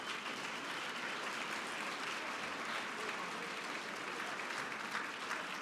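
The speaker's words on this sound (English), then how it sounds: "Let's give Apple another round of applause." Steady, dense applause from a large audience at an awards gala, sustained at an even level throughout with a faint crowd murmur underneath.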